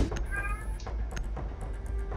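A house cat meows loudly at close range over a steady background hum, one short drawn-out cry followed by faint clicks and rustle.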